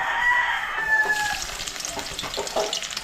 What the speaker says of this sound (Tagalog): hulog na natin oh, itong sibuyas at bawang